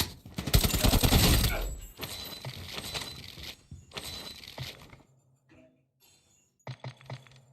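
Gunfire in Call of Duty Mobile DMZ mode: a loud burst of rapid shots is followed by two more bursts, then quieter scattered game sounds and brief clicks, with no talk over it.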